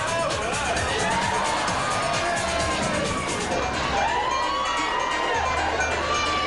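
A large outdoor crowd at the Bug Jam Volkswagen Beetle festival, 1995, cheers and shouts in a continuous dense roar, with whoops and scattered voices rising over the babble throughout.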